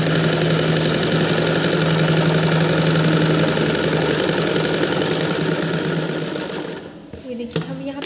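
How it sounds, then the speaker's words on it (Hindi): Electric sewing machine running steadily while stitching a smocking frock, a continuous buzzing whir with even stitch rhythm that slows and stops near the end. "नीचे तक हम सिलते हुए चले आएंगे।"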